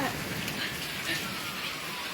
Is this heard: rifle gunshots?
no